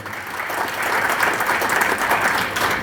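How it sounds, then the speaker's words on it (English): An audience at a student government welcome address gives a sustained round of applause for American University of Nigeria, a dense, even clapping that holds steady throughout with no talk over it. "A massive round of applause for American University of Nigeria."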